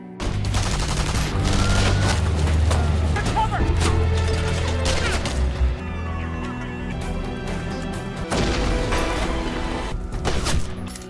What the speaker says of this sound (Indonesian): Sehingga aksi tembak-tembakan pun terjadi di sana